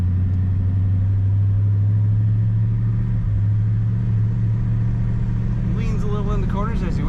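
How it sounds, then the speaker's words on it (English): A deep, steady flathead V8 rumble from a 1950 Ford Tudor sedan dominates throughout, loud and close, with a brief higher whine or squeal rising near the end. "Classic 50s sound, that rumble from this flathead V8."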